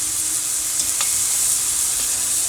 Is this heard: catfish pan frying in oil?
yes